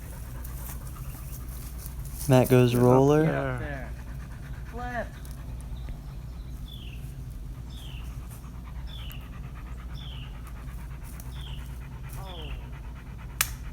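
A dog pants in quick regular bursts at a disc golf course, preceded by a loud close whimpering whine, with people talking briefly over it.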